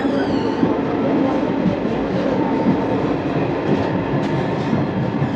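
Steady rumble and rattle from inside a moving train with dirty sleeper-style coaches, continuous and loud with faint clacking throughout.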